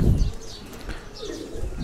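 A female pigeon gives a brief, low coo with a soft flutter close by, over quiet background noise.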